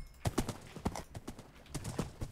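Horse hooves clip-clopping in a video game, about ten sharp, evenly spaced steps at a walking pace, close and clear with no talk over them.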